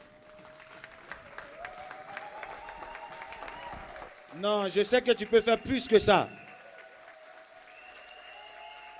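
A church congregation's short burst of applause and cheering swells for about two seconds between stretches of a preacher speaking, then fades back to talk.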